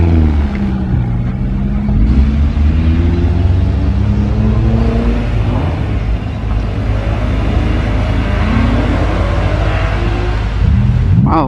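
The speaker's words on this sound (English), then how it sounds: "we got the Honda NSX going" A Honda NSX with a V6 engine drives off from a Cars and Caffeine meet at Combermere, its loud, steady engine note rising in pitch while pulling away, close and continuous throughout with other engines and crowd ambience behind.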